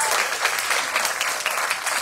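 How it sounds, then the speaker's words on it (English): A lecture audience breaks into steady applause, a dense wash of many hands clapping at an even level, fairly loud and uninterrupted throughout. "Come on, give her a round of applause."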